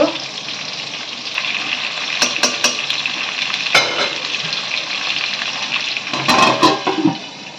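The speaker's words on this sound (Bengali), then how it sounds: "এটা ভাজা হতে থাক" Potatoes frying in a pan on a home stove, a steady bubbling sizzle with intermittent scraping and stirring clatter, louder bursts near the end, no talking.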